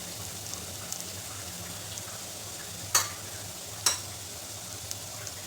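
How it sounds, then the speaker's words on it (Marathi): Vegetables frying in oil in a pan, a soft continuous sizzle with two sharp stirring scrapes or clinks a second apart, close but quiet. "त्याला पण छान असं परतून घ्यायचे तेलामध्ये"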